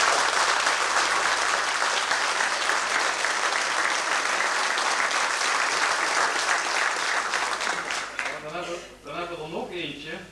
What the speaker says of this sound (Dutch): Ik zou zeggen, geef hem een hartelijk applaus.